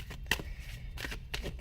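Tarot and oracle cards are shuffled close by, with quick soft riffling bursts and light slaps of the deck at a quiet level.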